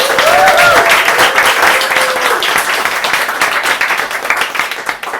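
An open-mic audience gives a first-time reader another round of applause, a full, steady clatter of many hands held for several seconds, with a brief whoop or vocal cheer near the start.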